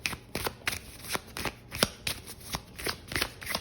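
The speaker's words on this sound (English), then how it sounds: "I do want to pull some oracle cards here" Oracle cards shuffled by hand in quick riffling bursts, close and fairly quiet, repeating in an uneven rhythm with no voice.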